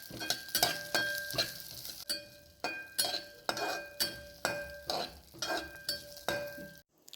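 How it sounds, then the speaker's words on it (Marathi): Dry fruits roasting in ghee in a pan, stirred with a metal spoon in a regular rhythm of scrapes and clinks over a quiet sizzle, close and fairly soft. "आधी ड्रायफ्रूट्स जे आहेत ते आपण गोल्डन ब्राऊन होईपर्यंत रोस्ट करून घेऊया."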